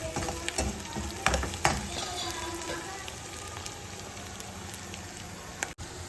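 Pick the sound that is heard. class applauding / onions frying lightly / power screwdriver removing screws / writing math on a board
onions frying lightly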